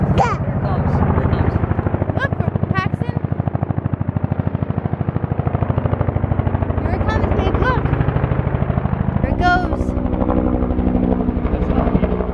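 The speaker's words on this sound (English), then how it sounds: "Oh, I hear helicopters." A helicopter passes overhead, its steady rotor chop running through the whole stretch as a loud continuous drone, with a voice and other voices talking over it at times.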